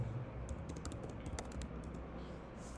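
Typing on a computer keyboard while setting up an Android project: a steady run of light, crisp key clicks, some in quick bursts, over a low background hum with no talking.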